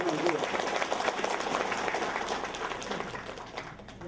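Audience applause at a Vietnamese community gathering in Atlanta, Georgia, steady dense clapping from a hall crowd that slowly fades toward the end.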